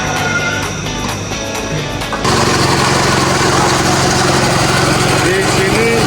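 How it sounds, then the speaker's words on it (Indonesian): An air compressor runs close by with a loud, constant mechanical drone that steps up to a fuller, heavier roar after about two seconds and holds steady. "untuk getarannya kompresor masih normal, tidak ada getaran berlebihan"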